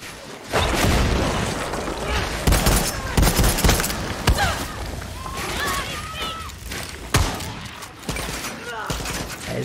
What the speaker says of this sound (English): Let me try that new rifle.